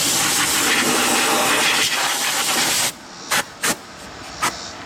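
Compressed air blasts from an air compressor nozzle during a Cub Cadet lawnmower tune-up, a loud continuous hiss for about three seconds, followed by three short sharp bursts.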